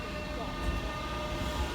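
A train, the 253 service to London King's Cross numbered 5531, rumbles past in a steady continuous roar with no clear gaps.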